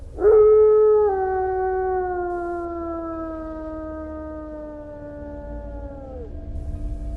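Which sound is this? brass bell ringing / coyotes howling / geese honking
coyotes howling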